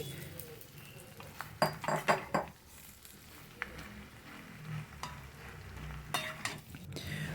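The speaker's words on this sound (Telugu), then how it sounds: "ఇప్పుడు ఆలుగడ్డ ముక్కలు వేగుతూ ఉన్నాయి" Potato pieces frying in a pan for aloo kurma sizzle steadily up close while a metal spoon stirs and clinks against the pan in several irregular bursts, with no talk.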